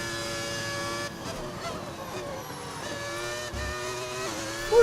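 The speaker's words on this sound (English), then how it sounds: "Turns your engine into a V10." In the F1 25 racing game, a Formula 1 car fitted with a V10 engine sound mod howls loudly and continuously, its high engine pitch wavering through shifts and throttle changes.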